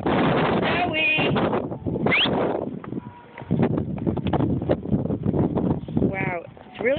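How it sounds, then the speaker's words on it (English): Strong wind gusts during a 2011 snowstorm, roaring steadily outdoors as a person talks and calls out over it. "The wind's blowing pretty hard, too."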